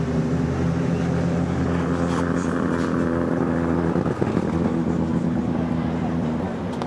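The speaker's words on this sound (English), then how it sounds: "As the cars roll back to the paddock" Rallycross cars idle and rumble in a low, steady drone as they roll slowly back to the paddock at the 2018 World Rallycross of USA.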